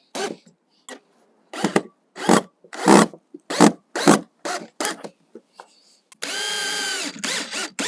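Power drill driving screws into a wooden garden gate on a London extension build: several short close whirring bursts in an irregular rhythm, then one longer sustained drive at the end.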